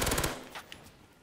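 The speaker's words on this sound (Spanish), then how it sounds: "Vale, dispara arriba, Buzz." Automatic gunfire from a video game bursts rapidly in a dense, loud rattle for a fraction of a second, then fades into a quieter tail with a single later pop.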